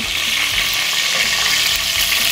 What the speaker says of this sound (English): Then I just flipped it to sear the other side for about 1 minute.